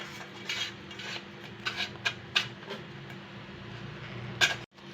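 A kitchen knife works through a cooled alu vadi mixture of colocasia leaves and batter in a metal pan, giving soft scraping with a few light metallic clicks and taps close by over a faint background hum.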